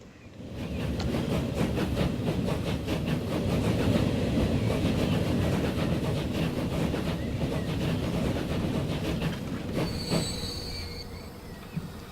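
Train rolling along the track in the railway simulation game Transport Fever, a steady loud rumble with rhythmic clickety-clack wheel beats and a brief high squeal near the end.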